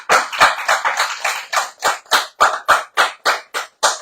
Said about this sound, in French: On applaudit Paulette